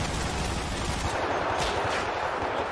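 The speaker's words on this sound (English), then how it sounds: "Shots fired from the road as well." Automatic gunfire in a GTA V NoPixel roleplay shootout, a dense, continuous barrage of shots rattling loudly throughout with no talk.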